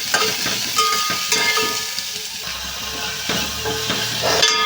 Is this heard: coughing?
no